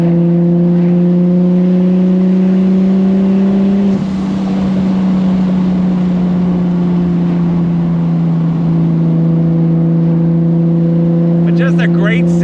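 Nissan Skyline R34 GT-R engine pulling steadily while driving, a strong droning tone that shifts as the gear changes partway through, loud and close, with faint clicks near the end.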